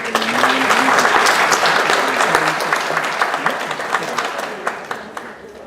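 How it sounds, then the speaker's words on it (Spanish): Applause from an audience at a law school constitutional forum in Lima, a dense burst of clapping that swells early and gradually thins into scattered individual claps toward the end. "Aplausos para él."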